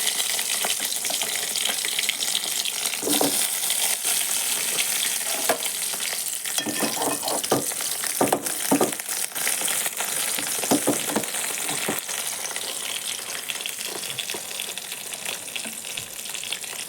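Onions and curry leaves frying in a pan for a Tamil home-cooked dish, giving a steady close sizzle with scattered stirring clatter and a faint running-water hiss, no one speaking.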